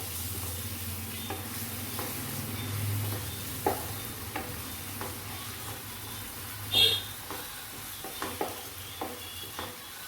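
Tomato sauce and soy sauce being stirred together in a pan over low sizzling heat, with a soft steady hum underneath and a few scattered scraping taps from the utensil.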